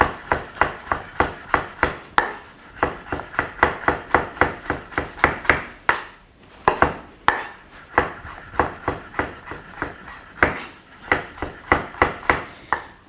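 A chili being finely sliced on a chopping board, a steady run of crisp, close knife taps against the board, evenly paced with a couple of brief pauses, loud and alone.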